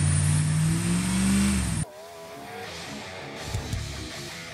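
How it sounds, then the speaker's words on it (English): Car engine revved to about 2,500 rpm during a battery and alternator test, a close, loud humming drone that cuts off abruptly partway through, then a quieter idling rumble with a faint shifting whine. "It then prompts you to get in the vehicle and rev to 2500 RPM."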